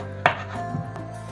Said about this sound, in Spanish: Ya tenemos nuestras patatas lavadas y las vamos a cortar en cuadritos